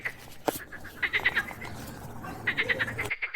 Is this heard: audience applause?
no